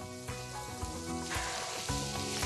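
Chestnuts frying in olive oil give a loud, dense, continuous sizzle, heard up close and with a few stirring scrapes mixed in.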